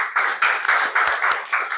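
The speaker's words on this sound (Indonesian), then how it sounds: "Tepuk tangan untuk kita semua." A classroom of students claps their hands together in a steady rhythm, a series of about six bright, loud, evenly spaced bursts close by.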